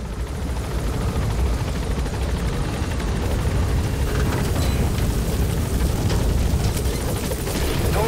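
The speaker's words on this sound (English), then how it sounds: "There's an enemy helicopter patrolling in the distance" Enemy helicopter on patrol in Metal Gear Solid V: The Phantom Pain, a steady, dense rotor-and-engine rumble that holds at an even level throughout, broad and continuous without clear peaks.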